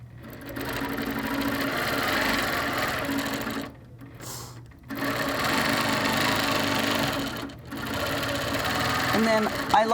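A sewing machine stitches through a quilt in a steady, loud mechanical whir that halts twice briefly before resuming.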